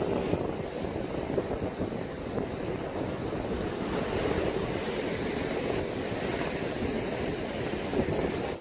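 Surf and strong wind roar steadily at Mae Ramphueng beach near the white rock flats in Rayong, Thailand, a dense, unbroken wash of breaking waves and gusting air with no voices.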